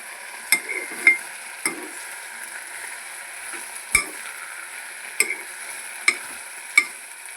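Bachhali leaves and black-eyed peas cook in oil over a faint steady sizzle, punctuated by about eight sharp clinks of a spoon against the pot, with no talk.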